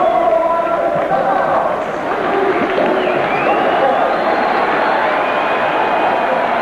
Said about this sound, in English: cheering the introduction of Pernell Pete Whitaker